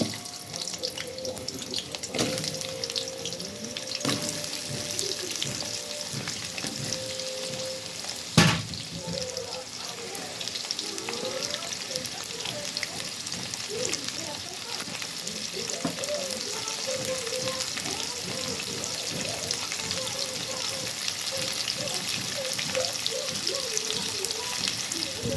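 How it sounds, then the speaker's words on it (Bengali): Potatoes fry in hot oil in a kadai, a steady bubbling sizzle with scattered clatter and one sharp knock, heard at moderate level throughout with faint background voices. "আবার কড়াইতে সেই তেলে গরম করে এবার আলু ভাজা হবে।"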